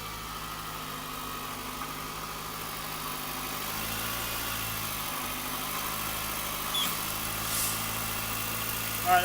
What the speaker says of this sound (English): So I'm going to go ahead and have them rev it up a little bit, and then I'm going to load it down.